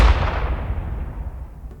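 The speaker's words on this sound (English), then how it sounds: "While the New Zealand Navy were busy blowing up the bomb out in the harbour" A bomb detonated by the New Zealand Navy out in the harbour at Port Vila: a single heavy blast that opens loud and broad, then rolls off into a long, fading low rumble, with no voices.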